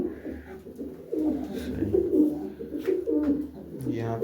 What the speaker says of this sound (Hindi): चलें जी, इस कमरे वाले कबूतरों को देखते हैं